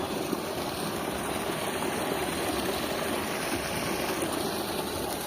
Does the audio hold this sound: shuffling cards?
no